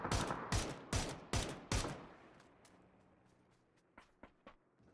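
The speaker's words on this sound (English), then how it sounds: "Shots in the direction of Justus." Five sharp gunshots crack in quick succession during a PUBG pro scrim match, followed by quieter scattered distant reports and faint shuffling.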